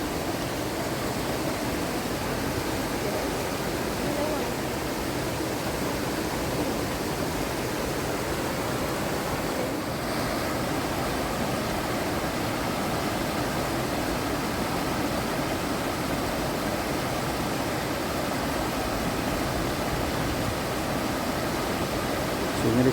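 A river at the Lenggong Valley campsite rushes in a steady, broad wash of flowing water that stays loud and unchanging throughout, with no voices over it.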